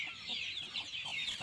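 Chickens raised on a farm, including young chicks, cluck and chatter in a brief close flurry of overlapping calls at moderate volume.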